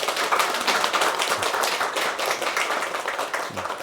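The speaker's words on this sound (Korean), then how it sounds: "우리 환영의 박수 부탁드립니다." A church congregation claps steadily in welcome, a dense, sustained round of applause at close range with no voices.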